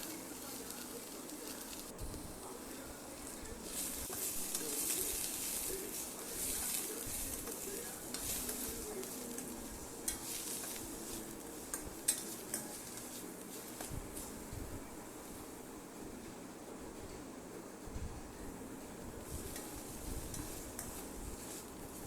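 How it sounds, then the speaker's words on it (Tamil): Capsicum and onion stirred and frying in oil in a kadai for capsicum kurma, a steady close sizzle with frequent scraping stir strokes and occasional clinks of the spoon against the pan. "குடமிளகா பெரிய வெங்காயமும் நம்ம ஒன்றா சேர்த்துக்கலாம் சேர்த்துட்டு நல்லா கலந்து விட்டலாம்"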